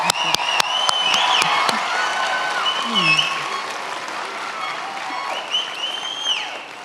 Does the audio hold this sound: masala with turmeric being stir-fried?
no